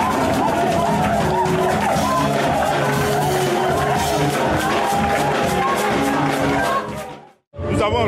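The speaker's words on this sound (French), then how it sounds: "c'est avec des cris de joie, des acclamations que les 6 étudiants de la 11e promotion, baptisée la promotion Moïse, ont reçu leur diplôme de fin de formation" A crowd of graduating students cheering and shouting with joy at their diploma ceremony, a dense, continuous roar of voices and whoops that holds loud before cutting off near the end.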